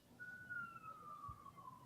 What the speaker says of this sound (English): Whose sirens are those?